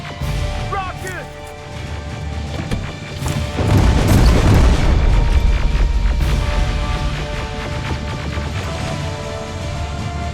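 A rocket explosion in the Terminator Resistance video game: a heavy, broad boom bursts in a few seconds in and rolls on as a loud sustained rumble over constant combat noise, with no speech.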